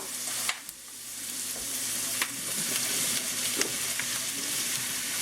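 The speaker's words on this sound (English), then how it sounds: "just gonna hit the pan with a little bit of olive oil. That right there is about 3/4 of an onion." About three quarters of an onion sautéing in olive oil in a pan makes a steady, close sizzle throughout, with a few faint clicks and scrapes of a utensil.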